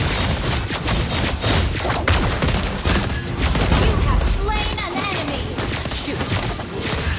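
Rapid gunfire and explosive attack effects from the mobile battle game Mobile Legends, dense overlapping shots and booms with game voice lines mixed in, loud and continuous.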